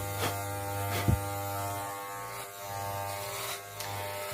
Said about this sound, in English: you'll hear the cutting blades cutting into the hair